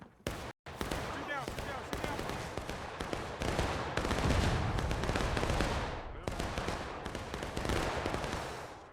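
Canister shot artillery fire in the War of Rights Civil War game on the River Crossing map: dense booming blasts and crackling volleys fill the whole stretch, with voices talking over the battle.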